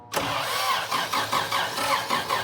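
A neglected 1984 Toyota FJ60 engine cranking over on the starter, a close, loud rhythmic churning of about eight even pulses that never catches and runs.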